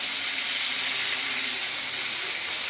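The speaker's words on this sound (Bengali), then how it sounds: "আমি অপর পাশে কই মাছগুলো ভেজে নিচ্ছি।" Koi fish (climbing perch) fry in hot oil with a continuous, bright, close sizzle that holds steady throughout.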